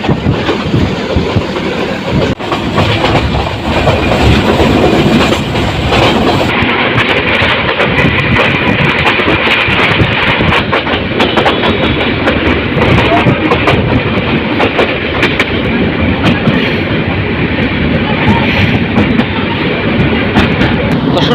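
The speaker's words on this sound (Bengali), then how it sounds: "ক্রসিং হচ্ছে এখানে কিশোরগঞ্জ অভিমুখী কিশোরগঞ্জ এক্সপ্রেস ট্রেনটি ক্রস করে গেছে" Loud, steady roar of a local train running on rails between Bhairab and Narsingdi, with continuous clattering wheels and rushing wind noise, heard from on board.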